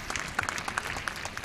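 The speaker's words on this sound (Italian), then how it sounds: "Gli applausi del pubblico che c'è" An audience in the finals hall in Cagliari gives brief, moderately loud applause with scattered individual claps at the Italian Under-23 men's individual épée fencing championship.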